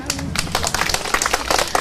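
Audience clapping at an outdoor ceremony opening children's playgrounds, a dense steady patter of many hands lasting a couple of seconds, fairly close and loud with no talk over it.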